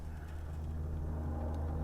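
Radio-controlled rock crawler truck on a Rock Pirates carbon Interceptor chassis, Sidewinder build with a 70 amp ESC, pushing up and over rocks; a quiet, steady low motor hum and rumble holds throughout with no break.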